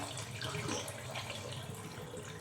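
Broken wheat (dalia) is rinsed in water, producing a continuous close rush and slosh of running water that stays even from start to finish, with no talking.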